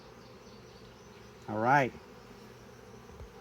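Honeybees at a hive during beekeeping around a queen mating box make a low, steady background hum. Someone speaks briefly, louder than the bees.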